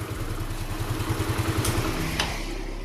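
A Yamaha Mio scooter idles with a steady low putter, close by, then cuts out abruptly near the end, leaving a quiet hum.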